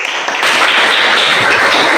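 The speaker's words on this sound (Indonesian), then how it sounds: "Tepuk tangan." Students in a classroom clap together loudly and close by, a dense burst of hand claps that holds steady for a couple of seconds.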